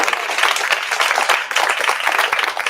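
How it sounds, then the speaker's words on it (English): An audience at a startup founders' demo night in Bristol breaks into a loud round of applause, a thick, continuous burst of many hands clapping close by, sustained for nearly three seconds with no talk over it. "Give him a round of applause."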